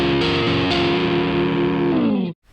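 Electric guitar through the Brit J2000 amp model on a Line 6 Firehawk rings out as one loud, distorted sustained chord that decays slightly, then is cut off abruptly near the end.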